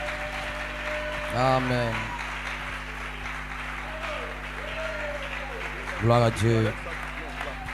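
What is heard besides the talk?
church congregation applauding and cheering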